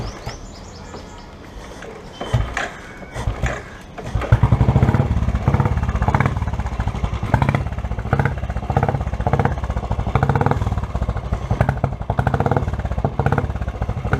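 A Royal Enfield motorcycle with a new exhaust is started and runs with an uneven, thumping beat that grows louder after a few seconds, with birds chirping faintly in the background.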